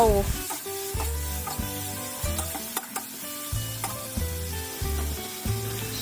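Snakehead fish stir-fried with curry paste, shredded kaffir lime leaves and basil, with a spatula scraping and clanking rhythmically in the pan over a steady close sizzle, no voices.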